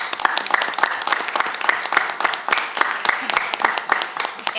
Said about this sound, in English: Can we just give a round of thanks and applause to the people that are willing to be on this committee?